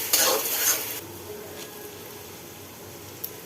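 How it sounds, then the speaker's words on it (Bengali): Onion, ginger and garlic fry in a pan, a close, loud sizzle with brisk stirring scrapes at the start, settling into a steady crackle. "পেঁয়াজ আদা রসুন ভালো মতো একটু ভাজা ভাজা করে নিচ্ছি"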